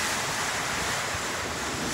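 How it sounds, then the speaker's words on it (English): Strong gusting wind and rain from an Irish storm roar in a dense, constant wash of noise heard from a farm shed, loud and unbroken with rumbling buffeting on the microphone. "There's a lot of high winds, of high gusts out there today now."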